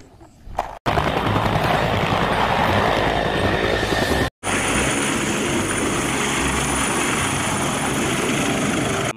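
Toy police helicopter running with a loud, steady whirring buzz of its rotor motor and a high whine, cut off briefly once and restarting, alone without talk.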